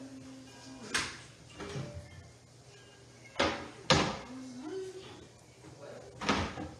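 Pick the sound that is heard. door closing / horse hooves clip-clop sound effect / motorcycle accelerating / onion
door closing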